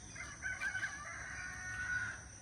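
A rooster crows once in the morning at a village stay in Vellavaya, Sri Lanka, a drawn-out cock-a-doodle-doo heard at moderate distance over quiet background.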